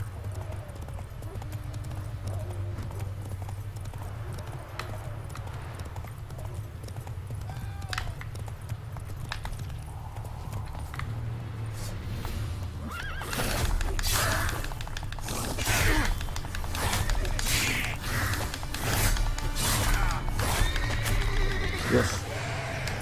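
Horse hooves clip-clopping at a steady riding gait with whinnies and neighs, from a horse ridden in The Witcher 3 video game, played under a low game music bed, growing louder and busier in the second half.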